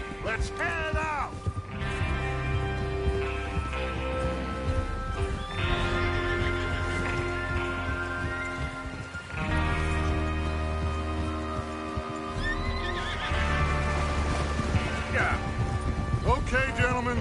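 Horses neighing and whinnying with hoofbeats in the video game Red Dead Redemption 2, several calls over a musical score and faint rain, loud and close.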